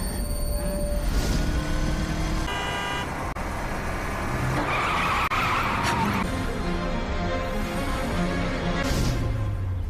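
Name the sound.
motorcycle stunt show, engines and skidding tires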